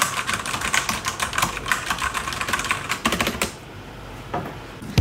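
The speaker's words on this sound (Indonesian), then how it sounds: "ini keyboard switch brown, habis ini suara ketik-ketiknya" Rapid, continuous clacking of a Rexus Legionare MX 10 mechanical keyboard with brown switches, close up, with a brief pause near the end before a few final keystrokes.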